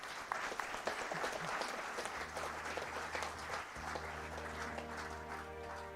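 Audience applause at a public policy book launch event, a steady roomful of clapping sustained throughout, fairly distant and even, with a low hum underneath and no talking over it.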